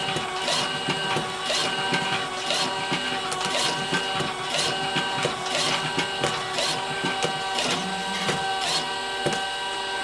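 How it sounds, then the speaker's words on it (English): An automatic carton labelling machine runs continuously nearby, giving off a regular mechanical clatter of repeated sharp clicks and whirs at an even pace. "now you can just continuously load the products onto the machine during the operation"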